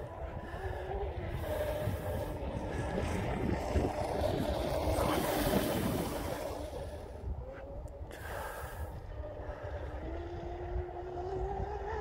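Blackjack 42 RC boat running at full throttle, a steady sustained motor whine with water and wind noise, fairly loud and constant throughout.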